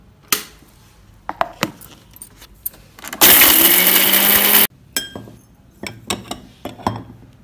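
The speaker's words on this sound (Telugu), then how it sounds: "ఈ హోల్ గరం మసాలా అంతా చల్లారిన తర్వాత మిక్సీలో గ్రైండ్ చేసుకోవాలి" Whole garam masala spices ground in an electric mixer grinder: a loud, harsh whirring burst of about a second and a half, set between scattered clinks and knocks of handling the jar.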